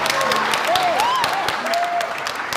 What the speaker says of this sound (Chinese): 首先让我们把最热烈的掌声送给这对新人